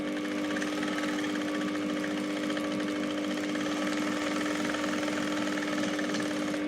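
A sewing machine stitching a sleeve runs as a steady, even mechanical hum with a fine rapid needle rhythm, continuous and fairly close, with no talking.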